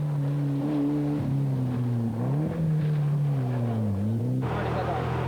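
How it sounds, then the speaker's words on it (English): David Somerville's Mitsubishi Galant rally car pulls away from the start line at the 1994 Jamaican Rally. The engine note rises and falls through gear changes, loud and close, with a commentator talking over it before a burst of noise at the end. "We start day two with David Somerville's Mitsubishi Galant leaving the line."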